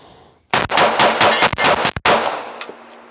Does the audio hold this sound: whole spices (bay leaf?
no